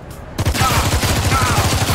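Rapid automatic gunfire bursts from the video game Showgunners, a dense fusillade of sharp repeated shots that starts abruptly after a brief quiet moment and continues loudly to the end.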